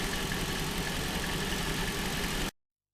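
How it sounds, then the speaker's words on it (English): A McLaren SLR 722 engine idles with a steady low rumble, then cuts off abruptly. "with the engine running"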